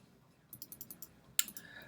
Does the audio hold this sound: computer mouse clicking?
yes